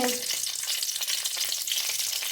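Urad dal and chana dal crackle and sizzle steadily in hot oil in a home kitchen pan, a close, dense frying hiss with no voices over it.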